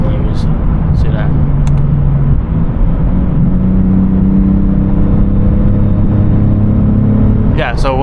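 A Lexus IS 350 (2021 or later) fitted with an Apexi exhaust drones steadily from inside the cabin as the driver downshifts a couple of gears, engine pitch rising and shifting, with a few sharp clicks and a rising tone at the close.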